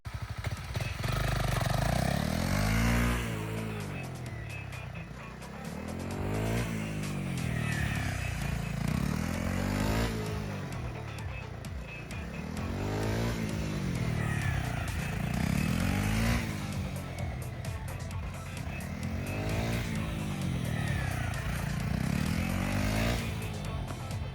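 A Honda CRF250 Rally motorcycle riding on an open road, its single-cylinder engine droning loud and steady with rhythmic rising and falling revs as it shifts through gears, wind noise over the top.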